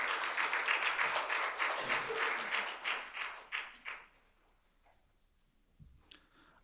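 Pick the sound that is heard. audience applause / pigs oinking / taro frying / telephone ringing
audience applause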